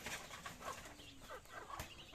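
Faint, distant duck calls with short quacking or clucking notes, a few scattered calls over quiet outdoor background.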